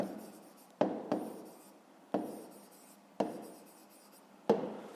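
Pen writing a fifth-grade math solution on paper, close and quiet scratchy strokes in several short bursts, each ending with a sharp tap, no voices.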